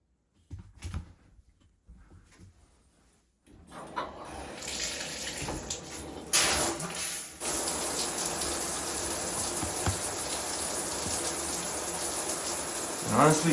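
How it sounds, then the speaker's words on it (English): A shower runs water through a newly installed shower filter, starting with a few clunks and sputters before settling into a steady, close hiss of spray that holds to the end. "Now let's test out the water pressure."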